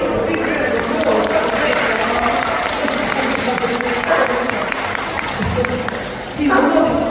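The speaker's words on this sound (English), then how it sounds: "give him a big round of applause." An audience at a sea lion show in a safari park claps loudly in sustained applause, with crowd noise underneath and a voice coming through briefly.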